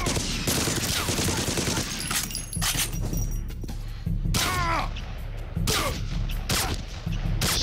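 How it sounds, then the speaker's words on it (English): Rapid, sustained gunfire from the video game Code of Honor 2 at a factory, dense overlapping bursts crackling loudly with brief pauses, alongside sharp impacts and a faint voice in the background. "Shooting him in the hand"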